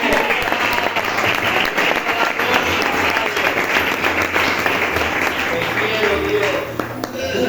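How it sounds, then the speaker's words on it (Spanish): Church congregation applauding during a Spanish-language sermon, dense continuous clapping that fills the whole stretch, loud and close, tapering slightly at the end. "Dale un aplauso al Señor, amén."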